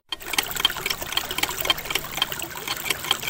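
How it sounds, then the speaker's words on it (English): Water sloshing and rattling inside a container as it is shaken to mix in disinfectant for water purification, a steady busy liquid churning close by for a few seconds with no talk. "Shake the water and you're ready to begin your 30-minute waiting period."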